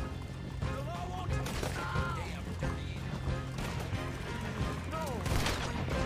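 Gunfire from Red Dead Redemption 2 cracks out in repeated sharp bursts over the game's background sound, and a voice talks now and then among the shots.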